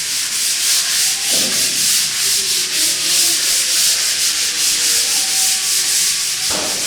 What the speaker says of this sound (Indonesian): Nah itu Mas Anto lagi ngamplas